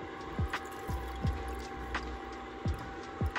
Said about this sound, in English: Go in here for a final rinse for a few seconds.